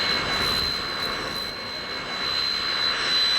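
Jet aircraft kept by a 1970s rock band, a steady broad engine roar with a high whine, fairly loud and continuous with no voices.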